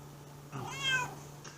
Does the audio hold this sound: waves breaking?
no